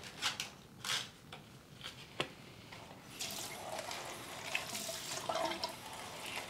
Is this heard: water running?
yes